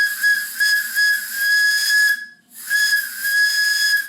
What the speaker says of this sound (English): I think I'll try the whistle at a higher pressure.